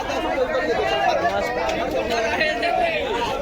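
Crowded vegetable market in Kawardha, Chhattisgarh, with a constant babble of many nearby voices, loud and unbroken, merging into a thick wash of overlapping talk.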